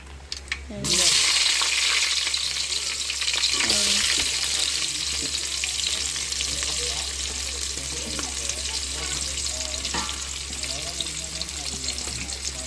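Tempering seeds, onions, tomatoes and green chilies hit hot oil with a sudden loud hiss, then a dense continuous sizzle carries on with light stirring clatter for the rest of the stretch.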